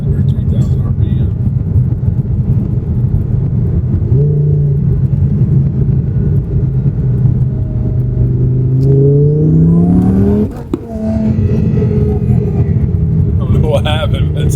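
A twin-turbo Audi R8 engine revs steadily and loud, its pitch climbing in a sweeping rise before cutting out abruptly and settling back to a rumbling idle, with voices talking over it.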